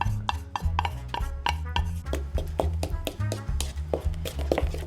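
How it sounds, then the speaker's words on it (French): Cake batter with cream and melted chocolate being mixed in a bowl, a steady run of tapping, scraping strokes in quick rhythm, close and clear, with a low musical bed underneath. "Il faut essayer de bien mélanger pour qu'il n'y ait pas de grumeaux."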